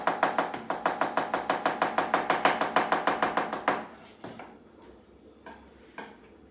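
A knife chops garlic on a cutting board in quick, steady taps, about twenty sharp strokes in a row, then a few slower, scattered knocks as the cutting winds down, close and clear with no talking.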